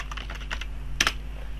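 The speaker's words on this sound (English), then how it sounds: "let's type ipconfig" Typing the command ipconfig on a computer keyboard at a Windows command line: a quick run of light key clicks followed by a louder double tap, close and alone.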